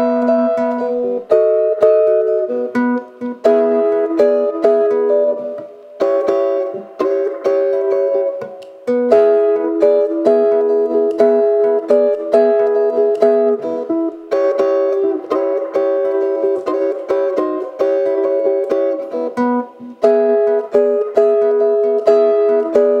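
A jump blues shuffle in E plays on guitar, with a steady swung chordal pattern repeating bar after bar through a turnaround, close and clear for over twenty seconds with no talk.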